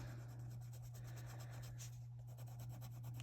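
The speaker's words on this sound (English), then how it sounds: "This time we'll use the white pencil instead of the colorless blender to blend everything out." A white colored pencil rubbing over paper to blend colored-pencil shading, a faint, steady scratchy stroking heard close up with a constant low hum beneath.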